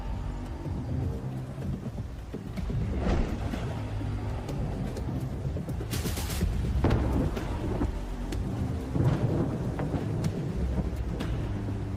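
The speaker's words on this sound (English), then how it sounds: "On the horizon, a storm was brewing." Thunderstorm with steady heavy rain pouring down, continuous low rumbling thunder rolling throughout and a sharper crack near the middle, no voices.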